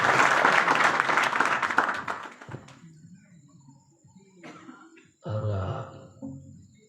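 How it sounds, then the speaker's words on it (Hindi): A crowd at an Amrit Mahotsav community gathering in Chaubara Jagir bursts into loud applause for the host, which quickly fades into scattered quieter sounds, a cough and brief rustling. "एक बार उनके लिए जोरदार ताली बजाएं"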